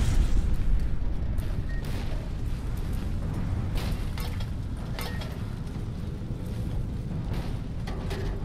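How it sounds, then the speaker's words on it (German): Deep booming explosions rumble through Fallout New Vegas, a heavy blast at the start and further thuds over a constant windy roar, with no talk. "Boah, alles explodiert."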